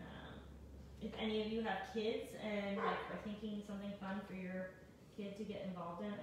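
A dog barks in the background behind a person talking close to the microphone, giving repeated short yips and barks under the speech.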